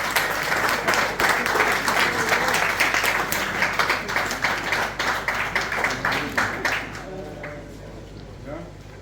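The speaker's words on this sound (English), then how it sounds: "Massive round of applause for Mike." A round of applause at a koi show awards ceremony, with dense clapping from a gathered crowd that holds steady, then thins into scattered claps and fades under some talk near the end.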